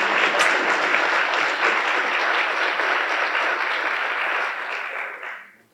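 County address audience breaks into sustained, even applause, many hands clapping in a hall, holding steady before tapering off and fading out at the end.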